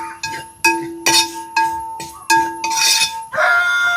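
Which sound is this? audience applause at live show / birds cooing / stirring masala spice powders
stirring masala spice powders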